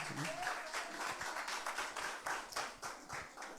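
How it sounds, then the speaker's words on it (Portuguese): A church congregation claps joyfully to welcome the pastor at a worship service, a dense run of hand claps with distinct rhythmic bursts, heard at a moderate distance with faint voices underneath. "Receber o pastor com palmas bem alegre"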